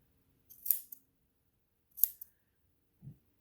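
Scissors snip through the curved seam allowance of a fabric face mask, making three short, close cuts spaced about a second apart with silence between them.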